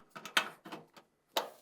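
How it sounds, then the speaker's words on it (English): A 1/4-inch screw is driven back into the lint air duct of a Whirlpool, Maytag or Kenmore dryer, giving a few quiet, close clicks and ratcheting bursts separated by short pauses. "reinstall the 1/4" screw on the lint air duct"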